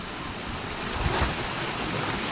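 Strong ocean waves surge and break against rocks, a loud continuous rushing wash with a heavier swell near the middle, mixed with wind buffeting the microphone.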